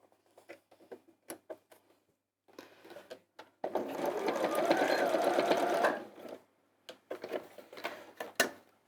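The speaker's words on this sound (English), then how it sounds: "we're just going to sew straight across that end" A sewing machine stitches straight across the end of folded fabric in one loud sustained run of about two seconds, framed by light clicks and handling taps before and after.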